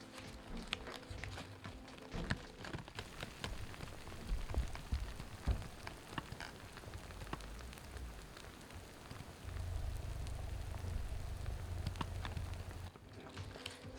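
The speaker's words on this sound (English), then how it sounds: "see if you can hear that sort of fizzling that I spoke about as the solution does its work" Pest-control solution for fungus gnats fizzing in potted plant soil, a faint continuous crackling fizz heard close up for about fourteen seconds with no talking.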